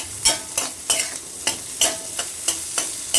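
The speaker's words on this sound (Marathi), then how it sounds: "माशाचा गर उकडलेला आपण तो घ्यायचा आहे तो परतून घ्यायचा आहे" Boiled, flaked fish filling for samosas being sautéed in a pan: crisp sizzling broken by regular, evenly spaced spatula scrapes and taps, close and loud, with no talk.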